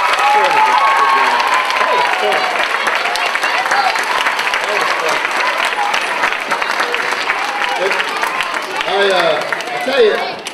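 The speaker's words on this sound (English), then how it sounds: "You give yourselves a big round of applause." An audience at a camp talent show claps in sustained, dense applause that fills the whole stretch at steady loudness, with a few cheers and crowd noise mixed in.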